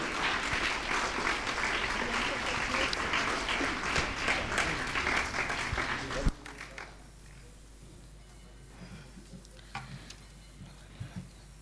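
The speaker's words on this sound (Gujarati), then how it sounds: "જોરદાર તાળીઓથી આપણે વધાવી લઈશું" At a school annual day, a crowd bursts into loud, brisk applause to welcome the education society's secretary. The clapping runs for about six seconds, then cuts off abruptly, leaving a quieter room with scattered small noises.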